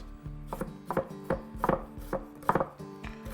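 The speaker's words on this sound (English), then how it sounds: "and then just cut them into dices, and they kind of just fall apart, the perfect little pieces of onion" A knife chops through onions on a cutting board in a steady series of crisp, close thuds and slices, about two to three strikes per second, with no voices.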